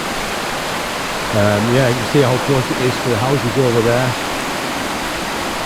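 A flooded river rushes in spate at Barnard Castle, a loud continuous roar filling the whole clip while someone speaks over it for a few seconds.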